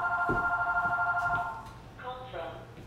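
A telephone rings with a steady, warbling electronic tone for about a second and a half, then a second, shorter ring follows after a brief gap, fairly close and clear.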